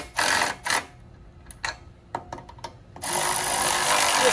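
A 3/4 inch power tool drives a carriage bolt into wood while installing bunker boards, giving short whirring bursts, a string of quick clicks and taps, then a longer sustained buzz near the end.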